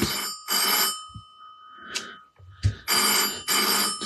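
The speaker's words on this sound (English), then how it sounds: "And there goes the phone." A telephone rings in bursts, shrill electronic trills in a regular on-off pattern, loud and close, with a few faint knocks and bumps between the rings.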